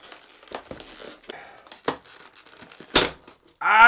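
Hard plastic packaging around a Nintendo DS is pried and torn open: sporadic crinkles and sharp snaps with quiet pauses between, ending in a louder burst of crackling plastic.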